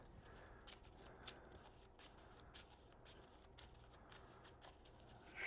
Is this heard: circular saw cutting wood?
no